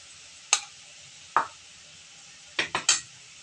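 A spice paste of turmeric and chili powder fries in a pan with a faint steady sizzle, broken by four sharp clicks of a utensil against the pan. The last two clicks come close together.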